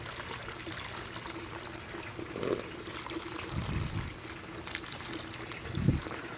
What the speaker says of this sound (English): our last thing to do is water the plant